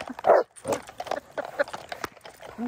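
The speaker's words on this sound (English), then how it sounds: "I know he's barking at you." A dog barks several times in short, yappy bursts at close range, mixed with people talking nearby.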